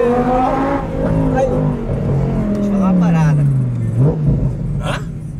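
A powerful car's engine roars and revs as it accelerates, the pitch sliding down through gear changes, with a steady rumble heard under people talking inside.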